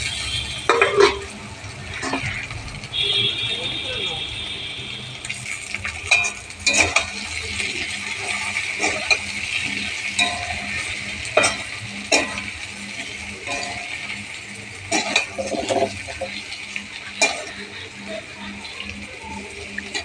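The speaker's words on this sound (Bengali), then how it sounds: "আর একটু ভেজে নিচ্ছি" Potatoes fry in a pan with ground chilli, coriander, cumin and turmeric while a spatula stirs, giving a steady sizzle broken by irregular scraping clicks against the pan, close and moderately loud, with no talking.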